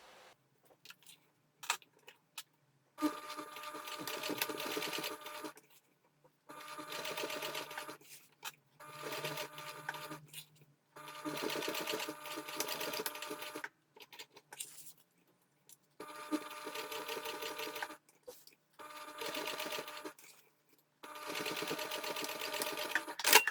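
A sewing machine stitches a reinforcing box with a cross through a strap, running in repeated bursts of a few seconds each with short quiet pauses between, close and fairly steady.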